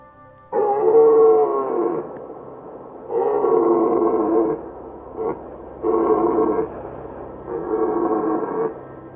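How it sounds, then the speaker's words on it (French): Deep, drawn-out red deer stag bellows roll out one after another at night across a valley, four long moaning calls with short pauses between, resonant and loud. "j'entends le brame des cerfs résonner dans le vallon"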